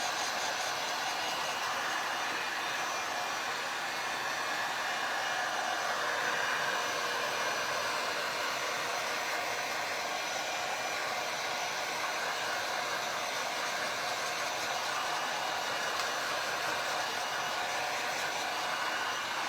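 Handheld dryer blowing air steadily to dry a heart-shaped craft piece with three crosses, a constant loud whooshing hiss held close for the whole stretch with no pauses.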